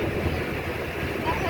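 A passenger launch travels along a river near Nabadwip, its motor giving a steady low rumble, with a voice heard over it.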